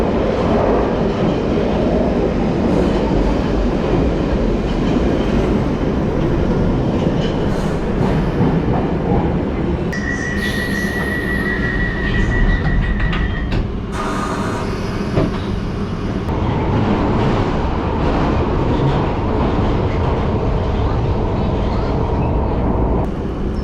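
A London Underground Piccadilly line train rides through the tunnels, a loud constant rumble of wheels and rails with a sustained high squeal partway through and shifting roar as it runs.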